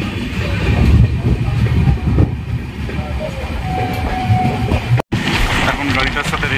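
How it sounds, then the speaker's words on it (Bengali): The 12837 Howrah Puri Super Fast Express runs at speed after leaving Delang station bound for Puri, a loud continuous rumble of wheels and rattling carriages filling the clip, with a brief cut near the end. "আমাদের ট্রেনটি দেলাং স্টেশন থেকে রওনা দিল পুরীর উদ্দেশ্যে।"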